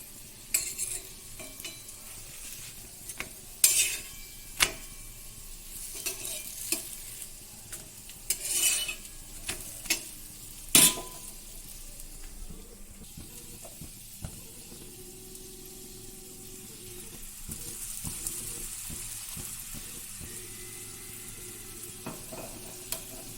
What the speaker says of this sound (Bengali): এইভাবেই পরোটাগুলো ভেজে নিচ্ছি